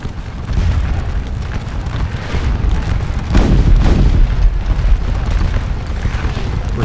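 Artillery booms roll across a Napoleonic Battle of Waterloo battlefield in a real-time strategy game, a loud, continuous rumble of cannon fire with swelling heavy blasts and no talking.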